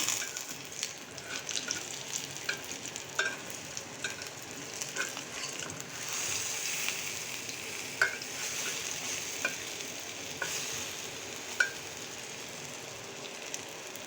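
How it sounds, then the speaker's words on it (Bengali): Potato and egg chops frying in a little oil in a pan on the stove, a steady hiss of sizzling with scattered small pops and crackles throughout, no voices. "বাকি চপগুলি আমি ভাজার জন্য চুলায় দিয়ে দিয়েছি।"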